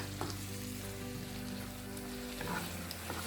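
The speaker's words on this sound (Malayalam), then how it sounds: "ഇനി നന്നായി ഇളക്കി മിക്സ് ചെയ്ത് കൊടുക്കുക." Beef frying in a pan, Kerala-style beef varattiyathu, giving a steady low sizzle with occasional stirring scrapes, fairly quiet and continuous.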